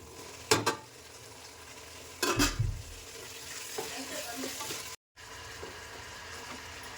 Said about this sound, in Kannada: ಟೊಮೆಟೊ ಹಾಕ್ತಾಯಿದ್ದೀನಿ